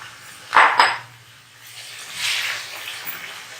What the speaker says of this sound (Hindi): अब हम इसमें ये चिकन ऐड करेंगे।